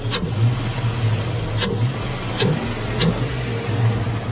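A Chevrolet truck engine idles with a low rumble, giving a few short revs that rise and fall over the steady drone.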